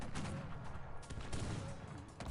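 Artillery and gunfire in the strategy game Cossacks 3, a dense, steady battle din of overlapping shots with no clear single blasts.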